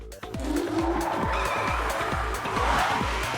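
Front-wheel drive passenger car driving on snow with repeated skids, a steady engine drone under short rhythmic tyre scrubs and slides, close and fairly loud with no voices.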